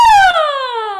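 A single voice imitates a siren as a singing exercise, one smooth loud glide sliding downward in pitch for about a second.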